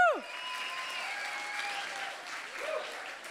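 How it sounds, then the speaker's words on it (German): A crowd applauds steadily for a band at the Miss Kärnten finale, a dense wash of clapping starting after a brief tonal sweep and holding at an even, moderate level throughout. "Und jetzt klatschen."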